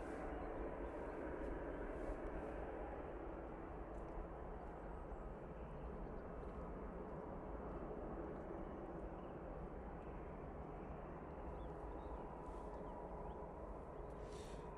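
Steady broadband jet roar of an aircraft at Manchester Airport, a constant, fairly distant rumble holding at even loudness throughout with no voices.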